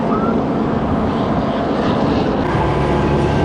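A second police helicopter flies over a locked-down police scene at Beach Blvd and Garden Grove Blvd, a loud, continuous rotor and engine roar filling the whole stretch without any voices.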